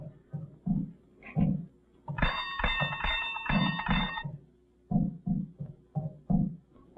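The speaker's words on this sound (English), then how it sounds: "You ring the bell." A doorbell in the 1941 film King of the Zombies: a bright, harmonic ringing tone sounds for about two seconds, set between bursts of speech before and after it.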